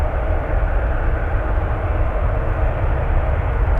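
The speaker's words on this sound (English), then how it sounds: "I hear the 380 spooling its engines." Airbus A380 at San Francisco airport spooling up its engines, a steady low roar with broadband rumble, continuous and fairly loud throughout at a distance.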